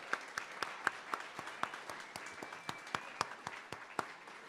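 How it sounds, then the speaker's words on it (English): Scattered applause for thirty startup companies at a 2024 awards event, a small group clapping with distinct individual claps in an uneven rhythm, fairly faint and somewhat distant in a room. "let's give a big round of applause to the 30 companies who came out here"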